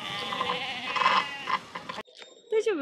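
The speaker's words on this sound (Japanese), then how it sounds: "最後の方は羊さんたち。" Sheep bleat nearby among a small flock at a farm, several overlapping calls with a short wavering bleat near the end, while a voice talks over them.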